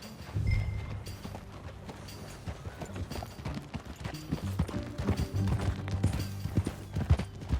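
Horse hooves clip-clop at a steady walking pace in the video game Red Dead Redemption 2, fairly close, with a soft outdoor ambience and faint creaks.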